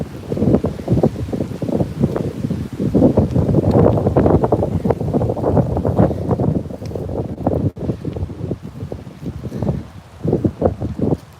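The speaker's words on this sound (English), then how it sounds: "Now it's getting windy again" Strong wind roaring against the microphone in loud, rumbling gusts, nearly constant with brief lulls toward the end.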